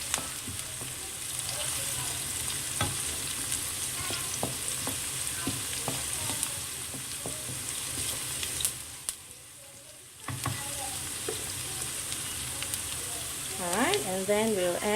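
Ladies finger and green chilies sizzle and fry in hot oil, with steady crackling broken by scraping stirs of a utensil in the pan, close and continuous, with a short quieter gap midway.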